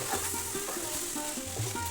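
Fried potato pieces get stirred into frying okra in a pan, giving a steady sizzle with repeated soft scraping and clinking strokes of the spoon at a close, moderate level, with no talking.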